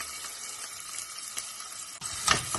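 Onion and parboiled rice frying in a pan, a continuous close sizzle with light stirring scrapes and a brief louder clatter near the end, no talk.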